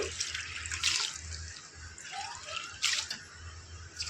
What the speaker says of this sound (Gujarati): ખાંડ ડૂબે ને એટલું જ આપણે પાણી નાખ્યું છે